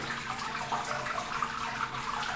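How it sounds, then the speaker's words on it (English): Sparge water runs steadily over the grain bed in a Brewtools brewing system, a constant close wash of splashing liquid that holds an even level throughout with no voices. "And just like that, we're sparging."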